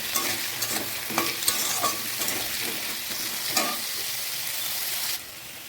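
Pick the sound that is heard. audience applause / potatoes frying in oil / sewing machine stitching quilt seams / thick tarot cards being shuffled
potatoes frying in oil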